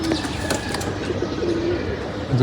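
Racing pigeons being released outdoors, with wing flapping and fluttering across the whole stretch and a few short coos, set against constant busy outdoor background noise.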